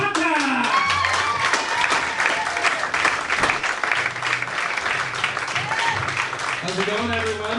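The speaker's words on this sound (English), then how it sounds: "So big applause for Mr." Audience applause for a stand-up comic at a Students of Stand-up comedy show, a steady wash of clapping from a crowd sustained throughout, with speech and music-like tones mixed in underneath.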